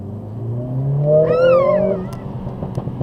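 Modified Mercedes CLA45s exhaust gives a rising, droning rev that peaks and fades, followed by a couple of sharp, brief pops as it settles, loud and close.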